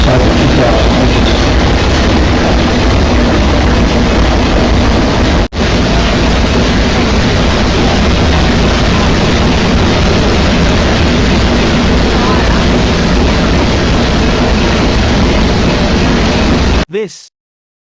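Aboard a lake steamer whose engine was built in Dunedin, the engine runs with a loud, steady, dense mechanical roar that holds unbroken for the whole stretch before cutting off abruptly at the end.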